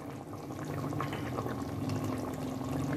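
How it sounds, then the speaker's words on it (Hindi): Tamarind water being poured into a pot of mutton chops biryani, a continuous splashing, gurgling pour with a steady hiss that stays close and even for the whole stretch. "अब साथ ही इसके अंदर मैं ये इमली वाला पानी और इमली शामिल करूंगी"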